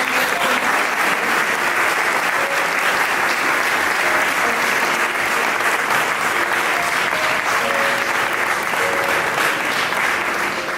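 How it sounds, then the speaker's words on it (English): An audience at an art salon opening ceremony applauds loudly and steadily, a dense wash of clapping that holds at full strength for the whole stretch. "maybe recognize them now with a round of applause"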